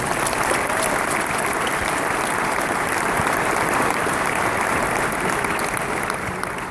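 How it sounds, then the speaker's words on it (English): Steady applause from a sizable crowd, dense clapping continuing evenly without a break from start to finish. "Let's give him a round of applause."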